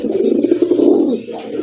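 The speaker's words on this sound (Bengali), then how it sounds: "এটা পাঙ্কি কবুতর, পাঙ্কি ফ্যাটের কবুতর" Fancy Panki pigeons coo steadily in a low, rolling murmur, close and continuous for the whole stretch with only a slight dip near the end.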